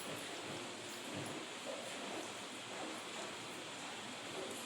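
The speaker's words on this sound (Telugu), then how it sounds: "బ్యాక్గ్రౌండ్లో మీకు సౌండ్ వినిపిస్తుంది కదా ఫ్రెండ్స్ చాలా పెద్ద వర్షం పడుతుంది" Steady, dense hiss of heavy rain falling, continuous and even throughout with no voices.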